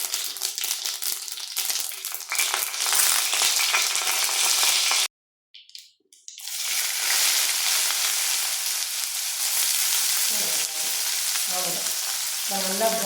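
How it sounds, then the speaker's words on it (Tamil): Mustard seeds, urad dal and dried chilies temper in hot oil, a loud continuous crackling sizzle that cuts out briefly for about a second, then resumes with stirring rattles and scrapes; no talking. "கடுகு போட்டு நல்லா பொரியணும்."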